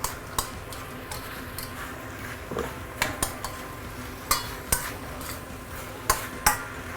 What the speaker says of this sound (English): while steaming our rice, we are stir frying our ingredient